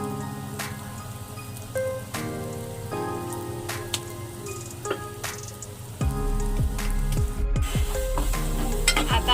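Stirring spices in a pan, with homemade garam masala, hing and turmeric added, for a chicken dish: scraping stirs over a steady sizzle, with sustained tonal sounds in the background and a louder, denser burst of frying after the midpoint.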